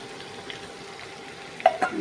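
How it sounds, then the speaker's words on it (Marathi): Onion frying in a pan with garlic for Hakka noodles, a soft steady sizzle with a few brief clatters near the end, fairly quiet and close. "सो आतां हांव कांदो घालता."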